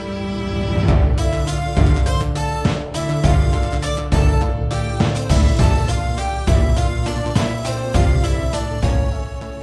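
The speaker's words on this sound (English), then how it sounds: "The Revita Kid leitmotif is a sequence of either 4 or 8 notes that appears in almost every single tune on the soundtrack." Melodic electronic game music from the Revita soundtrack carrying the Revita Kid leitmotif, a short four- or eight-note figure, over steady bass and percussion, loud and continuous with no voices.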